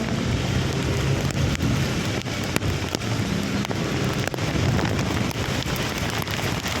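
Heavy typhoon rain pours steadily with a dense, loud hiss, scattered sharper cracks of drops hitting nearby surfaces throughout.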